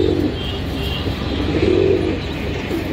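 Pigeons coo in low, repeated murmurs around a loft where a roughly two-to-three-year-old male pigeon is kept, the calls steady and fairly close over a constant background hum.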